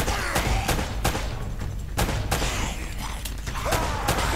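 Gunfight in Uncharted: Drake's Fortune, repeated sharp gunshots in an irregular rhythm with booming reports over continuous loud combat noise, no clear talk.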